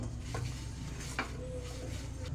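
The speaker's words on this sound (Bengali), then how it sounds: "হাত দিয়ে মেখে নেব।" Fish being mixed by hand with a spice paste of ground pepper, giving soft, close, wet squishing and stirring sounds against a faint steady background hum.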